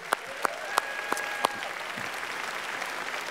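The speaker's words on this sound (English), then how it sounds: "Round of applause for them." An awards-ceremony audience applauds the nominees at an industry awards night. A soft, steady wash of clapping runs throughout, with several sharp, bright accents early on that may be bursts from the hall's sound system.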